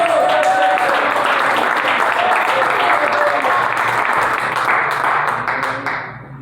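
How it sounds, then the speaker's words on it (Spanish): Loud, close applause from a church congregation clapping hard for God, a thick continuous roar of hands that holds steady and then thins out and fades near the end, with faint voices mixed in. "Den un aplauso fuerte a Dios"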